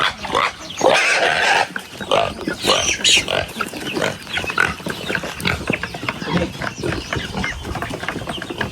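Pig grunts and snorts sound repeatedly at close range in a backyard pig pen, with voices and farmyard clatter mixed in throughout.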